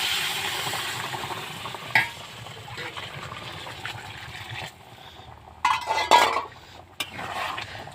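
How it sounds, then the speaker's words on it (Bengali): Hot water hits a pan of sizzling new-potato curry, a loud hissing sizzle bursting in at moments over continuous frying crackle, with a few stirring scrapes and clinks. "এবার আমি জল ব্যবহার করব অবশ্যই এটা গরম জল"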